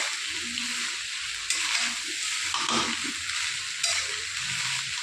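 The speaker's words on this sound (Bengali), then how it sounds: "দেখুন আমি রাইসটা ভালোভাবে মিশিয়ে নিলাম।" Leftover cooked rice stir-fried in a pan over a gas flame, with a steady close sizzle broken by the scrape and shuffle of stirring throughout.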